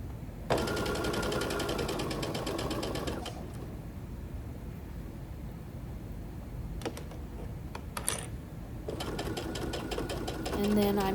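Domestic sewing machine stitching a quilt being upcycled into a jacket, running in fast rattling bursts at the start and end with a pause between, where soft handling noises and brief clicks are heard.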